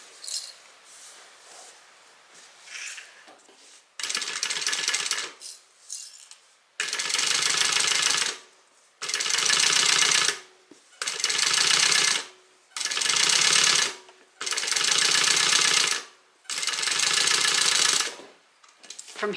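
A sewing machine top-stitches zipper tape flat on a hip bag, running in about six steady bursts of several seconds each with short pauses between, loud and close with no talking.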